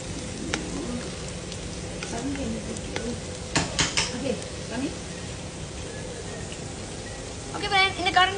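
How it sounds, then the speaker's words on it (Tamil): Two large onions frying and being stirred in oil in a pan for vegetable biryani, a steady sizzle with scraping spoon strokes and a few metallic clinks, close and under a talking voice. "எல்லாத்தையும் நல்லா எண்ணெயில வதக்கிடுங்க."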